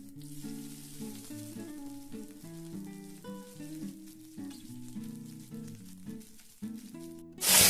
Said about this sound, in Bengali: এখন দিয়ে দেবো তেলে।